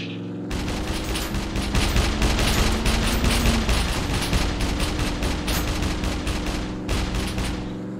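Rifle fire in the survival game SCUM: a long, loud, sustained burst of rapid shots with sharp, closely spaced cracks, followed by a few separate shots toward the end.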